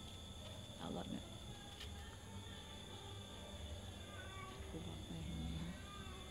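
A cat meows on a film set, two short moderately loud mews about four seconds apart, with crew members talking nearby and a steady background hum.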